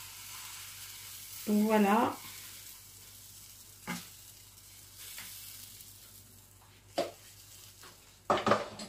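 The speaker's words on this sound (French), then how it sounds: "Et puis on va laisser cuire comme ceci à feu doux" Zucchini blinis fry gently in a pan over low heat with a soft, steady sizzle, punctuated by a few sharp clinks of a utensil against the pan; someone speaks briefly.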